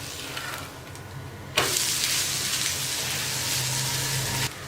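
A coriander dosa sizzles on a hot pan just after being flipped, a faint hiss that suddenly jumps into a loud, broad, steady frying crackle lasting about three seconds before dropping off, heard close with no talking.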